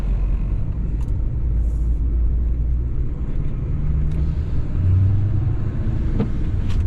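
A 1981 Chevy K20 truck climbing a hill in a snowstorm: a loud, steady, low engine rumble with road noise that drones on unbroken, with a few faint clicks and rattles on top.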